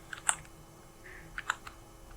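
Typing on a computer keyboard, a few scattered key clicks in two small bursts, close but quiet against a faint background hum.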